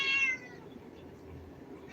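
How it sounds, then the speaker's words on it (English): A house cat gives a short meow at the very start, then a quiet room with low background noise follows, with no talking. "my cats are very vocal"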